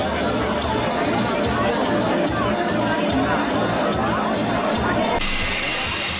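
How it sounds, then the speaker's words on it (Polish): A packed crowd at the Cologne Christmas market fills the air with continuous overlapping chatter, with a brief hissing burst near the end. "Najpierw musimy się przecisnąć przez tłum ludzi."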